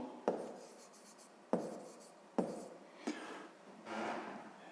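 Pen or marker writing numbers by hand for a sixth-grade maths exercise, with four distinct scratchy strokes spaced about a second apart, then a longer rubbing stroke, close and fairly quiet.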